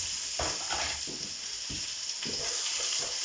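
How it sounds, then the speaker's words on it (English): Steady, loud sizzling of vegetables for mock moussaka frying in a hot pan, with occasional soft stirring scrapes and no talking. "So that's going in for a quick sizzle."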